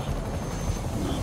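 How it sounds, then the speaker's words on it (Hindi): A helicopter in Marvel's Spider-Man Remastered hovers overhead, a loud, continuous rotor thrum and engine drone running unbroken through the short moment, with no talk over it. "ऊपर हेलीकॉप्टर।"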